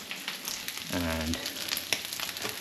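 Food sizzles and fries in a hot cast iron pan while being stirred, a steady crackling hiss with light scraping, and a person speaks briefly in the middle.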